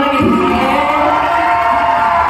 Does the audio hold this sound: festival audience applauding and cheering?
yes